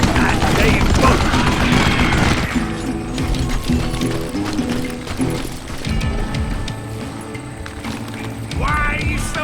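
Gunfire in the Western shooter game Call of Juarez: Gunslinger, a dense burst of shots in the first two seconds followed by scattered bangs and impacts over game music and effects, loud and close, with someone talking over it.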